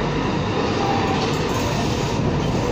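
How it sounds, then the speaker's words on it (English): A Tyne and Wear Metrocar train pulls into Monument Metro station platform with a loud, steady rumble of wheels and motors filling the underground space, no voices over it. "Train arriving platform 1 at Monument for South Shields."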